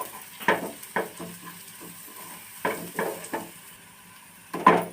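Onion curry seasoned with red chili powder and salt is stirred in a pan, with a soft low sizzle under a few distinct spoon scrapes and knocks against the metal, fairly quiet and close.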